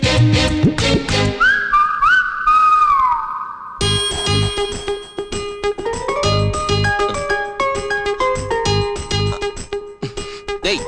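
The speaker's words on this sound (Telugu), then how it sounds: "నాకు నిద్రలో ఈల వేయటం అలవాటు" Someone whistles in their sleep, a wavering, sliding tune in long bright tones, mixed with bursts of other tonal sounds and rhythmic notes, fairly loud and close.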